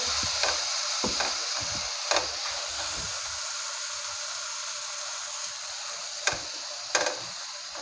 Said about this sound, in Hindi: हम अब इसको मिक्स करेंगे।